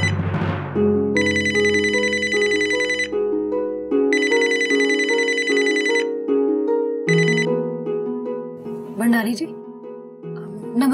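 A phone ringtone plays as a looping electronic melody with repeated bursts, loud and prominent across the whole stretch, sitting in an Indian village drama scene with background sound beneath it.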